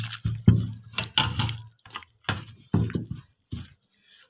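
Water poured and splashed into roti flour while dough is kneaded by hand, giving close, irregular wet sloshing and dripping bursts separated by short pauses.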